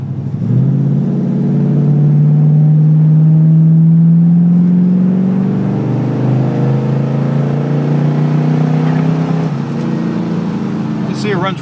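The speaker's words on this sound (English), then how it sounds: "Okay, let's put it in second. Passing gear here and go up the hill here." A 1970 Hurst 300 engine climbs steadily in pitch as the car accelerates uphill in passing gear, a loud, continuous drone heard from inside the cabin with a slight drop and recovery midway.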